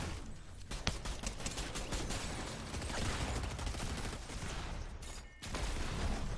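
Dense, continuous video game gunfire rattles in rapid bursts, a noisy barrage of shots with a brief dip before it resumes.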